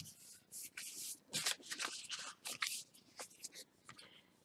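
Paper for a handmade mini album being peeled and folded over, close crinkling and rustling in quick bursts with sharp crisp scrapes, no voices.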